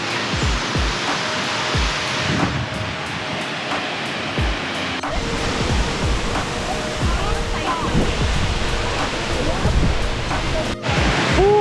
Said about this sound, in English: So finally we arrived at Bumodok Falls